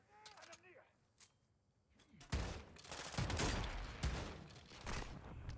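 Gunfire in Modern Warfare II starts with a few scattered shots under a talking voice, then breaks into dense, sustained rattling bursts that dominate the rest of the stretch.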